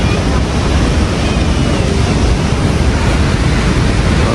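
Roaring water of Niagara Falls at Horseshoe Falls, heard from the tunnels behind the falls: a loud, steady, broadband rush that fills the whole clip without a break.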